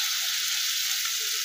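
Boiled tomato paste frying with spices in oil, a steady close hiss of sizzling, brief and unbroken, with no voices.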